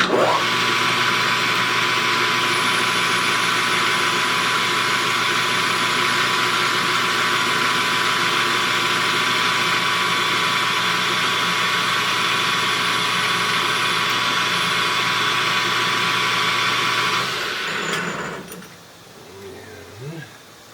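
A machine cuts metal on a small steam engine build, giving a loud, steady whirring whine with tonal hum that runs evenly for about seventeen seconds, then winds down and stops into quieter shop noise.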